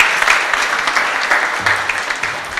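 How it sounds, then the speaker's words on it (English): An audience applauds steadily in a hall at a science and technology innovation awards closing ceremony as award winners leave the stage, a continuous dense wash of clapping at close-to-mid distance. "A round of applause for them as they move off stage"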